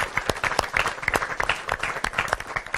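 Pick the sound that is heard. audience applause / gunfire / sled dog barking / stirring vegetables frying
audience applause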